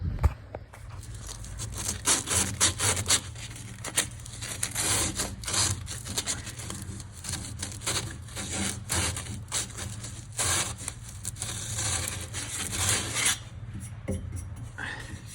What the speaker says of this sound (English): There's a little burr on there, so you want to take that burr off, clean that back